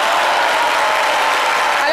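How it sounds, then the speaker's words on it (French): Studio audience at a French midday TV talk show applauding loudly, a dense steady wash of clapping that fills the whole moment without pause. "merci d'applaudir très fort Jessica Bomba"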